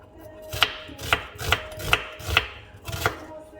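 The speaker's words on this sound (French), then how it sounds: "Ensuite, on va découper des oignons" A knife chops onions on a cutting board with about six sharp, evenly spaced strikes, close and fairly quiet against a faint background hum.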